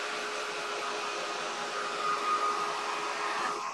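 A hair dryer blows steadily on painted lemons, a constant soft whooshing hum held for several seconds at moderate distance with no talking.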